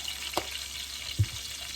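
Cumin seeds dropped into hot oil, giving a soft steady sizzle under two brief clinks, close and quiet throughout, with no talking.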